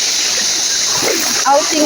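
Water splashes and rushes steadily at Ginadyawan Falls, a loud, constant close wash that fills the whole stretch, with faint voices beneath it.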